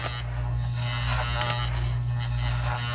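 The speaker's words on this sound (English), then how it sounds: "Just trimming all the hair and knowing it's gonna be a little bit neater and tighter." Electric hair clippers trimming hair on top of the head give a steady, close, loud buzzing drone with a constant hum underneath, heard alone without talk.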